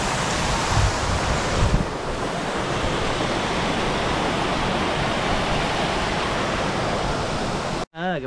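Cebollón river flowing, a steady broadband rush of water close to the microphone with some wind buffeting, constant throughout and cutting off abruptly near the end.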